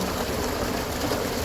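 Irrigation water rushing steadily into a village field, a continuous dense wash of flow close by with no talk over it.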